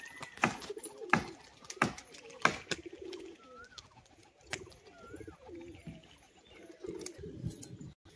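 A female pigeon cooing in soft low bursts, with sharp wing claps and flutters breaking in several times, close and moderately loud, while someone speaks intermittently.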